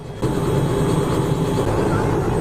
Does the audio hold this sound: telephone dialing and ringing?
no